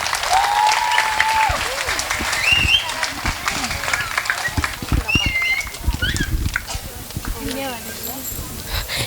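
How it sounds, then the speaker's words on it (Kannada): A school audience claps loudly for sixth-standard children after their drama, with dense, sustained applause and a few voices mixed in. "ಇನ್ನೊಮ್ಮೆ ಜೋರಾಗಿ ಚಪ್ಪಾಳೆ ಕೊಡಬೇಕು"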